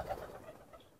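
Racing pigeons coo in a loft, a soft, low, continuous murmur of several birds close by, steady throughout with no talking.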